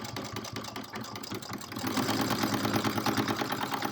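A sewing machine stitches along the edge of fabric facings on a zipper pouch, a steady rapid mechanical chatter that grows louder and denser partway through, close and continuous with no talking.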